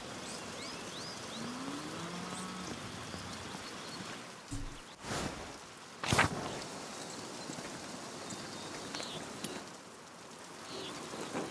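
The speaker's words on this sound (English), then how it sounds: "Look at this rain." Steady rain falls in the video game Pentiment, a continuous hiss of drops with a couple of brief sharper knocks midway.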